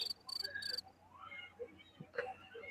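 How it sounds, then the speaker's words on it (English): Crickets chirping sound effect: short rhythmic bursts of high trilling near the start, then faint scattered chirps over a quiet background hiss, with no speech. "Crickets."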